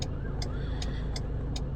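Cars crawl through heavy road traffic in Thailand. A continuous low engine and road rumble runs throughout, with a faint regular ticking about every half second, like a turn signal.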